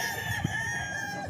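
A 10-month-old Gilmore Hatch straight-comb gamefowl rooster at a game farm crows once, a loud, near, sustained call filling the short moment with steady farm background.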